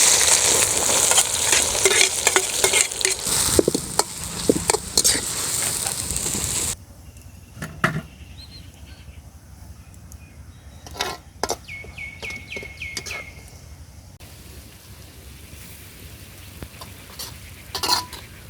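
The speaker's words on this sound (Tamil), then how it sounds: "வெட்டின வெங்காயத்தை பொரிச்சு எடுத்துக்கலாம்." Chopped onions frying in hot oil for a green country chicken dish, first a loud dense sizzle with spatula strokes, then a quieter stretch of scattered stirring scrapes and clinks over a low crackle.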